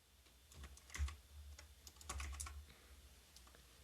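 Quiet, irregular clatter of typing on a computer keyboard, with scattered key presses and a few louder bursts, heard close and alone without talk.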